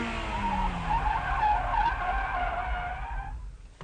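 A front-wheel-drive car spins out during a driving technique demonstration, its tires skidding in a loud, sustained squeal that wavers in pitch, then fades away under a low engine rumble.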